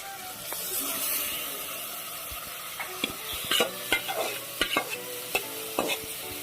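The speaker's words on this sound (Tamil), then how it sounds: "ஆட் பண்ணிட்டு தக்காளி கிட்ட நல்லா சேர்க்குற மாதிரி நல்லா கிளறி விடுங்க." Soaked mushrooms are stirred into tomato in a pressure cooker for Chettinad mushroom biryani: a soft sizzling scrape at first, then a run of close, uneven clinks and knocks from the stirring.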